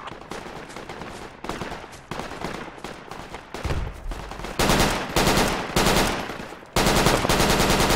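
Rapid bursts of automatic gunfire in the Project Reality military shooter game, loud and close, with short pauses between volleys that grow heavier and denser toward the end.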